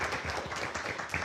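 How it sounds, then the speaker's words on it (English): An audience at a planetarium conference paper session gives a round of applause, a brief, soft patter of many hands clapping together at a distance. "Let's give Mary a round of applause."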